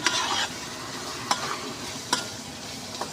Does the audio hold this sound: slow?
no